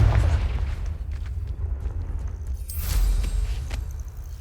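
Confringo fire spell explosion in Hogwarts Legacy, heavy low booming rumble with a brighter burst near the end, set against a continuous deep game soundscape.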